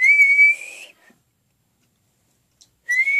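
A person whistles two steady, sustained high tones, loud and close, with a long silent gap between them and a faint tap in the pause.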